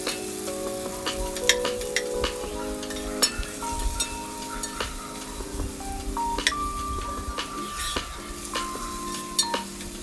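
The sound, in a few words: onions frying in a pot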